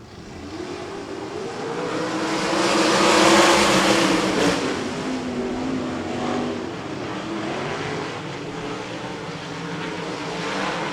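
Sprint cars roar around 34 Raceway during a heat race, a dense, continuous engine drone with shifting pitches as the pack passes, swelling louder near the middle and staying steady to the end, with no talk.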